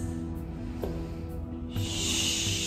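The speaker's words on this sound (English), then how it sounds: "You can either take a nice slow exhale" A slow, audible exhale during yoga breathing: a steady, soft airy hiss of breath, close up, that swells slightly louder toward the end, with no talking.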